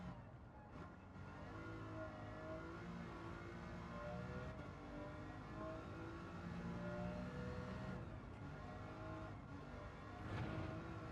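Race car engine in Gran Turismo 7 revving toward 9,000 RPM, a steady, loud, high-pitched drone that climbs and holds with brief dips at gear shifts.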